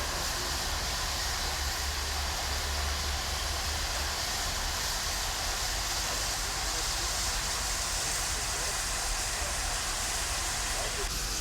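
Steam locomotives at a North American steam exhibition give off a continuous loud hiss of escaping steam with a low rumble underneath, unbroken throughout.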